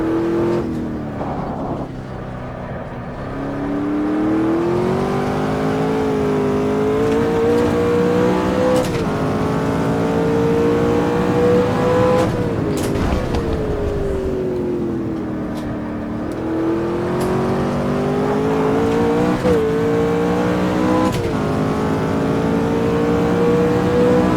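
Simulated V12 McLaren F1 engine in Automobilista, revving through the gears with a smooth, harmonic wail that rises, drops briefly at shifts and climbs again, loud and sustained throughout.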